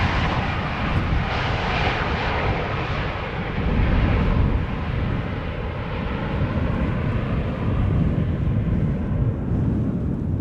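A BH Air airliner arriving from Erbil at Schiphol Airport gives a loud, steady jet engine roar with broadband rumble that swells briefly midway, heard from nearby with wind buffeting and no talk.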